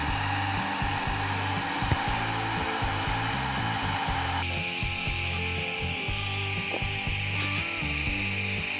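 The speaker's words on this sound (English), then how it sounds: "Here we are using hair dryer as we don't have much time to put it in" A hair dryer blows steadily on freshly made pH test paper, a continuous close whirring hum with a slight shift in tone midway, nothing else heard.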